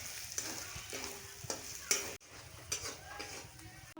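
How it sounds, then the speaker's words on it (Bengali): Spices and red chilli powder being stirred in a hot pan, a quiet scraping of a spoon against metal with a soft sizzle underneath and a few louder clinks of utensil on pan. "মশলাগুলোকে ভালো করে আমি একসাথে মিশিয়ে নিলাম"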